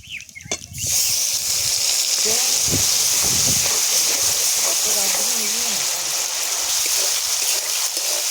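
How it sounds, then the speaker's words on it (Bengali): An onion, ginger, garlic and chili paste hits hot oil left from frying chicken for biryani, bursting into a loud, steady sizzle after a brief clatter and continuing as a close, bright hiss. "পেঁয়াজ, আদা, রসুন, লঙ্কা পেস্টটা দিয়ে দেব মাংস ভাজা তেলে।"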